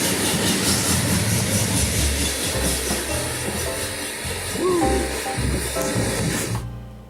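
A freight train rolls by up close, a loud broadband roar with clattering and hiss that holds steady before cutting off abruptly at the end.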